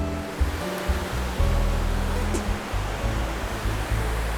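Water tumbling over a small waterfall on a trout fishing stream in the Hudson Valley, a steady close rush of broadband noise under intermittent talk and low rumbles from people nearby.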